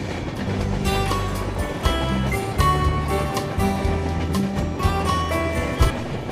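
The Tamralipta Express 12858 passenger train runs on past Tamluk station with a loud, steady rumble, a droning tonal motor hum and occasional sharp rail clicks.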